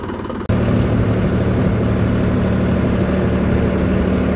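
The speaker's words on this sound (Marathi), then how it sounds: "आता आम्ही निघणार आहे लगेच ट्रॅक्टर घेऊन." A tractor engine runs at a loud, steady idle after a brief knock at the start, setting off to spray a mosambi orchard, with no talk.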